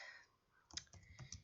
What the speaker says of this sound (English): As you can see, there's a tiny little dot there, and I'm typing.